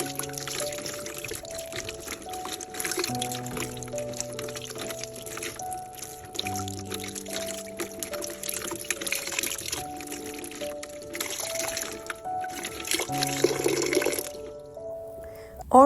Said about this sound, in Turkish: Orkideyi çeşmede bol su ile iyice yıkıyorum.